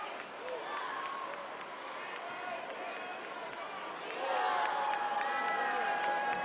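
A street crowd at a Holy Thursday procession in Lorca keeps up a continuous roar of cheering and chatter, with the voices swelling louder about two-thirds of the way through.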